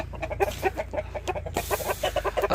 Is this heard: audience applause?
no